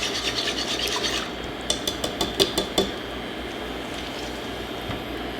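Mascarpone is worked into simmering heavy whipping cream in a pot, heard as raspy scraping strokes followed by a quick run of about six light metallic taps against the pot, then a steady low simmer.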